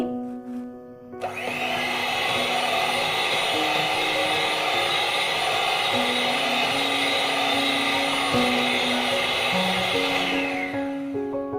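Electric mixer beating black forest cake batter after half a cup of sunflower oil goes in: a loud, steady motor whir that starts abruptly, runs unbroken for about ten seconds, then winds down.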